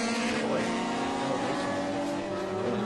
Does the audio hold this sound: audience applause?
no